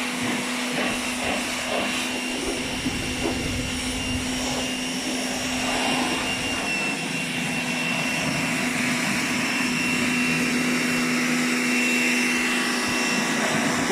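A Dnipro-M pressure washer, about 2 kW and rated 160 bar maximum, runs steadily with a continuous motor whine and tonal hum throughout, loud and unbroken.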